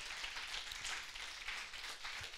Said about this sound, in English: clap your hands and give God praise for his word today.